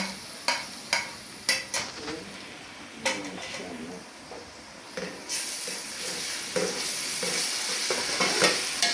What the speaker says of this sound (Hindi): तो मैंने वो लहसुन डाल के लहसुन को ब्राउन कर लिया